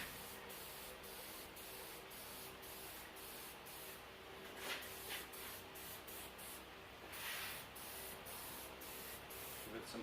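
Light first coat of paint sprayed onto a Warn 9.5ti winch, a steady close hiss broken by short repeated bursts as the gun trigger is pulled and released, with a continuous low hum underneath.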